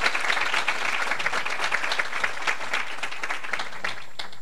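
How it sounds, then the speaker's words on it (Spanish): Audience applause after a scientific talk on slow slip events and tectonic tremors: steady, dense clapping from a room of listeners, fairly close and sustained throughout. "Les pido un aplauso y un agradecimiento."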